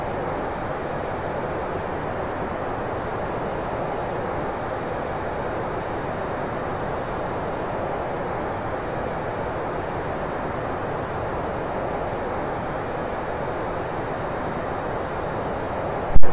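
A Boeing 747-8 in Microsoft Flight Simulator X, flying from Moscow Sheremetyevo to Amsterdam, produces a constant loud engine roar and airflow rush that holds steady and unbroken throughout, with no voices.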